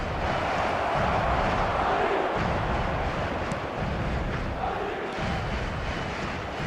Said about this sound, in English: there's a real sense that the momentum has shifted here, Peter, and the crowd are reacting to that now